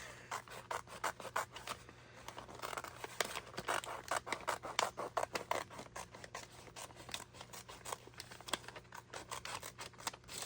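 Scissors snip steadily through a paper bag, a close, quiet run of rhythmic crunchy cuts and rustles with no talking.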